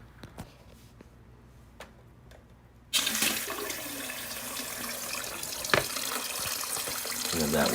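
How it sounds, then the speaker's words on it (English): Water starts after a few quiet clicks, and a bidet sprays steadily to rinse its nozzle, a loud continuous hissing rush that swells slightly toward the end. "Now we'll test the bidet."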